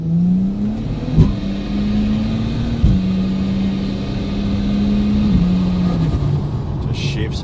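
A car with a freshly saved automatic transmission on a road test, its engine droning steadily and loudly, with the pitch stepping and dipping at about three firm gear shifts.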